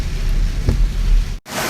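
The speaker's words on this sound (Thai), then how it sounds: "นี่ ฝนกำลังตกนะคะ ตกแรงมากเลยนะคะ" Heavy rain pours steadily in Sangkhla Buri, Kanchanaburi, Thailand, a loud, dense broadband wash with a brief dropout near the end.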